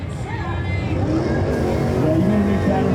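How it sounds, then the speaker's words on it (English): Cars at a night drift event drive past with rising engine roar, building from moderate to loud over a few seconds, while people chatter nearby. "Now we got some cars going."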